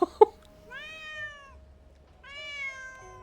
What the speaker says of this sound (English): I perked up real quick as soon as I heard the cat, because I literally thought one of my cats was calling out to me